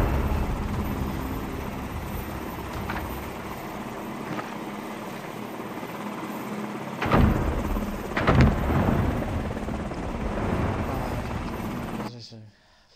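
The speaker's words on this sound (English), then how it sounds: "Watch out for the chopper!" Helicopter in the video game CrossfireX, a steady rotor drone filling the whole scene at moderate loudness, with a couple of louder bursts like gunfire or impacts midway before cutting out near the end.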